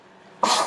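After a quiet moment, a single person sneezes in one sudden, loud burst that trails off quickly.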